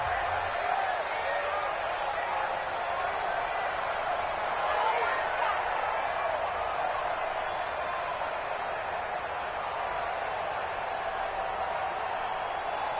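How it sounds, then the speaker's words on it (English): Crowd noise fills a stadium in a PS4 football video game as a big third down approaches, a steady broad roar of cheering behind the action with no clear peaks. "The crowd getting into it as we come up on a big 3rd down."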